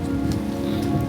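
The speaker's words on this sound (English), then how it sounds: "next thing you know it's just big hail bouncing off my face again" Large hailstones fall and bounce outdoors in a steady, dense patter of close ticking impacts, with no voices.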